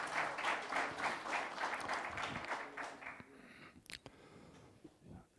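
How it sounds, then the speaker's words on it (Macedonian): Audience at a public tribute event in Skopje breaks into sustained, fairly loud applause that fades out after about three seconds, followed by a few scattered claps and faint room noise. "И за нив аплауз."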